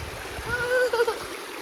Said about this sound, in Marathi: अच्छा कसा वॉटरफॉल? असली वॉटरफॉल आहे.